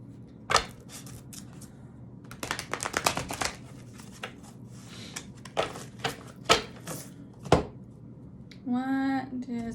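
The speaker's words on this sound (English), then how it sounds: "Let me pull some Chiron cards because I think they're fun." Chiron oracle cards being shuffled by hand, with brisk riffling clusters and separate sharp card snaps, close and fairly quiet, and a voice speaking briefly at the end.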